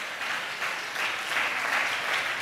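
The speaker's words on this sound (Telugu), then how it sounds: "గట్టిగా చప్పట్లు కొడుతూ స్తోత్రాలు చెప్తారు" A church congregation claps loudly in praise, a dense, continuous roar of many hands swelling slightly in waves without a break.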